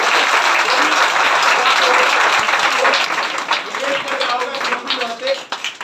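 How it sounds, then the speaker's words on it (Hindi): Loud, sustained audience applause at a school toppers' award ceremony, dense clapping that gradually thins out over several seconds. "एक बार शहबाज के लिए भी जोरदार ताली"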